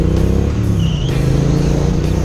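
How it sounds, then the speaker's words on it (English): A 2018 Triumph Street Twin motorcycle fitted with a Vance and Hines exhaust gives a loud, close, continuous deep engine rumble. The rumble holds steady across the whole short stretch, with no voices. "really low rumble at low revs, but then when revved, it sounds fantastic and pretty loud"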